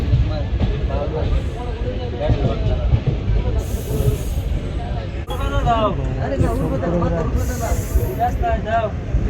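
A second-class train, the Mangalore Express, passes along the second platform at Feroke station, a loud continuous rumble and hiss with rattling, while people talk throughout.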